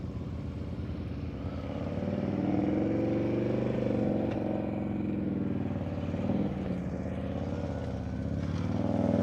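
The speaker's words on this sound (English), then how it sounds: "I want to hear the revs all the way through the turn, because then I know you have power to that rear wheel." A motorcycle engine holds steady, continuous revs through a slow-speed turn during advanced low-speed riding practice. The rumble is close and fairly loud, with no talk over it.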